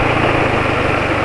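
Engine idling steadily on Mesran B40 oil, a low, even mechanical hum with a faint regular pulse, close and continuous with no voices.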